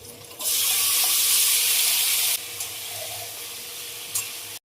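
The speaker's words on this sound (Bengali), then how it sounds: "পেঁয়াজ খুব ভালোভাবে ভাজা হয়ে গেছে, এবার দিয়ে দেবো মেখে রাখা মাংসগুলো" Marinated mutton hits hot oil and well-fried chopped onions in a pan, setting off a loud, steady sizzle and hiss that runs on without a break.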